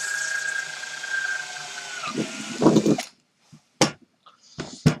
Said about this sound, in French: quand le forêt prend dans le métal, bah, ça va vouloir faire tourner l'ensemble